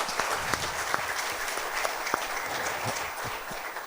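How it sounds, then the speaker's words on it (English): An audience applauds a panel after a conference discussion, with steady, moderately distant clapping from a room of people that holds at an even level throughout. "I think we should give a huge round of applause to a panel for a wonderful conversation."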